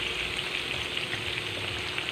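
Vegetables fry in hot oil in a village kitchen, giving an even, continuous close sizzle and hiss with no pauses.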